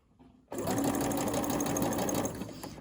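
A sewing machine stitches along the hem of a summer dress, starting abruptly after a quiet moment and running in a steady fast rattling whir for about two seconds before easing off.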